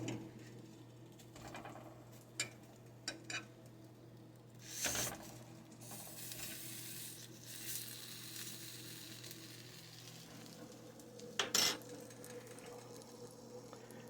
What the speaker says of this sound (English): I need to turn those over, so I'm going to go ahead and do that now.